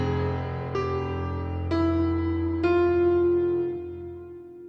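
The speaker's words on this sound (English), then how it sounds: "the original piano from the Giant sounded like this" A clean piano with heavy reverb plays three separate struck notes or chords about a second apart over a sustained low tone, each attack ringing out with a long decay and no talking.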